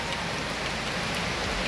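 Steady rain pours down outdoors, a dense, constant patter of drops hitting surfaces that hisses evenly from start to finish with no voices.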